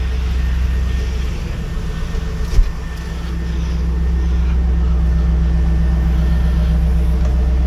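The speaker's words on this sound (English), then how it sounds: "let's drive this thing home" A 2001 F-Body with an LS1 V8 and T56 manual cruising on the road, a steady, low cabin drone and rumble with a brief thump partway through and no talk.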